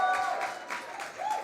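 A conference audience applauds a speaker at the start of a talk, giving a brief burst of dense clapping close to the microphone.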